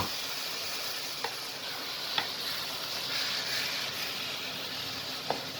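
Minced meat for Sarıyer börek sautés in a pan with a steady, moderate sizzle, broken by a few faint clicks of a utensil against the pan.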